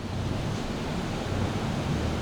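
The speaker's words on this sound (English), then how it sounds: "So if you want to hear the ocean." Ocean waves heard from the deck of the Carnival Celebration cruise ship, a steady loud wash of surf mixed with wind buffeting the microphone, continuous and static-like with no voices.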